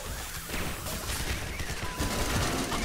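Rapid gunfire in the video game Gotham City Impostors, a dense, loud barrage of shots and crashing impacts that fills the short moment with no talk over it.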